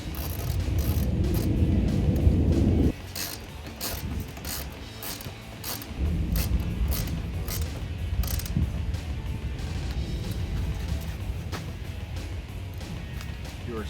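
Ratchet tightening 7mm bolts on a 2014-2018 Silverado or Sierra 1500 powered heated folding towing mirror: rapid runs of close, sharp clicking from the pawl, with brief pauses between bursts and faint background noise.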